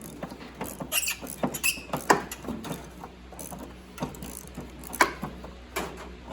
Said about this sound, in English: See if the ratchet works a little bit more.